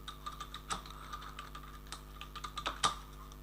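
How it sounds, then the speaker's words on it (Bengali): Someone types on a computer keyboard while writing in Microsoft Word: a steady run of light, close key clicks with a few sharper strokes, with no talking. "সাপোজ আমি এখানে কিছু লিখি"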